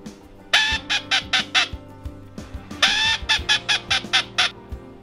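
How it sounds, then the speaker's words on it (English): Blue-winged teal duck call made from a barrel with a blowing barrel, blown in two quick bursts of rapid, nasal quacking notes, close and loud with a short pause between the series. "And this is a blue-winged teal call,"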